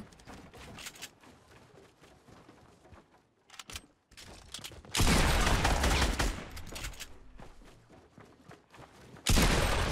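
Heavy shotgun blasts from the Fortnite video game, played without turbo building, with a quieter stretch of scattered gunfire followed by two loud, dense bursts of shooting.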